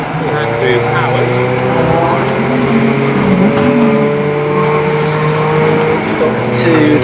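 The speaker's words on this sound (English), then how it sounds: "There's Bothelli heading through in his Class B Lotus" A Class B Lotus race car goes by at Donington GP during a club endurance race, its loud engine droning and shifting pitch as it passes under a commentator's continuous talk.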